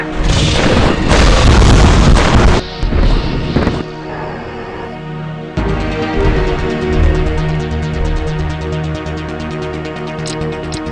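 Loud, deep artillery explosions in a Jeff Wayne's War of the Worlds strategy game: two big booming blasts in quick succession, then a dramatic orchestral score with distant rumbles underneath.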